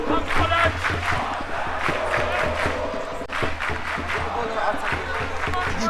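Crowd at a rugby match at a school sports festival on an outdoor field, a steady wash of cheering and shouting voices with scattered clapping, continuous and fairly loud throughout, with a commentator's voice speaking over it.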